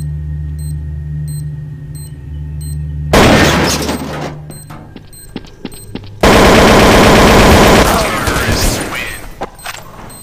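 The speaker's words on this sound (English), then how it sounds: "I definitely should not have gone full auto with that picked up AK" A picked-up AK rifle fires on full auto in Counter-Strike: Source, loud sustained bursts of rapid gunfire crackling in long runs after a ticking bomb timer, with talking in the background.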